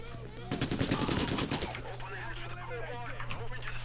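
Rapid bursts of automatic gunfire in the heist video game PayDay, a dense rattling volley for about a second, then scattered shots and game noise continuing under a steady low hum.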